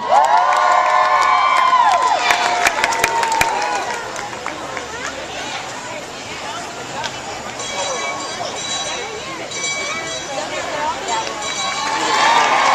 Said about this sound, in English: All right, let's hear it for Wild Wing